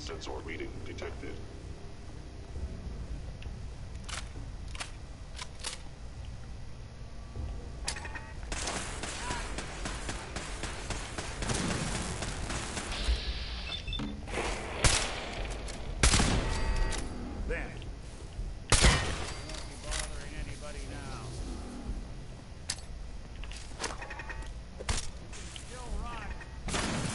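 Turret gunfire in the video game Fallout 4 cracks out in scattered sharp bursts, loudest midway and again later, over a low ambient hum. A voice talks during parts of it.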